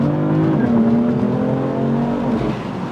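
A BMW M4 in sports mode accelerates hard, its engine note rising in a strong, steady tonal drone that climbs in pitch, loud and close with no speech.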